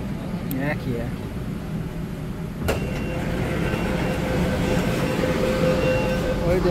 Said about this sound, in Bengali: এবার আমরা যাবো আন্ডার ওয়াটার মেট্রোতে।